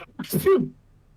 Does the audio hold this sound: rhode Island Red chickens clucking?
no